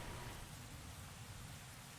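Steady rainfall on a rainy night at a castle in a video game, an even hiss of drops with no other sounds, brief and fairly faint.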